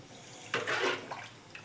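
Water splashes briefly into a cooking pot on a stove, a short pour of under half a second followed by a few faint drips and trickles.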